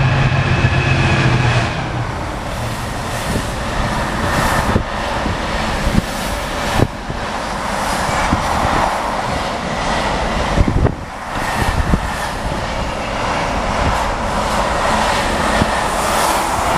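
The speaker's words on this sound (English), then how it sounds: "We just got off of our passenger train there, look." A train rumbles past close by, a steady broadband roar with rattling wheel clatter and occasional clanks, loud throughout with no talking.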